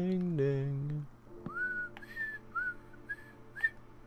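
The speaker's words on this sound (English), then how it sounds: "Okay, I should not whistle." A person whistles close to a microphone in a few short rising, gliding tones, loud and near, after a brief voiced hum at the start, with a steady low background hum throughout.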